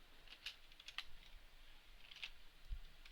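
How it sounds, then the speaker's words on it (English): Typing on a computer keyboard, a few close, light clicks and short bursts of keystrokes spread irregularly over a quiet background. "Now let's type out that function."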